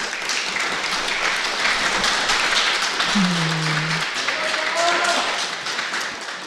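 Audience applause at a podcast event, PodRennes 2025, a dense continuous patter of clapping at steady volume with a brief low voice or tone in the middle.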